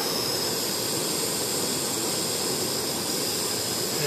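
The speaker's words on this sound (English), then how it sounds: "a mini gas stove with adjustable flame" A Stansport mini gas stove with an adjustable flame burns with a steady, loud, broadband roaring hiss that stays constant throughout, with no voices.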